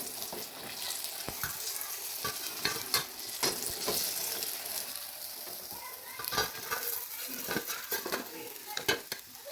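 Golden potato and onion pakoras hiss as they fry in oil, with scattered scraping and clinking as they are lifted out of the pan. The sizzle is steady and moderately close, with no talking.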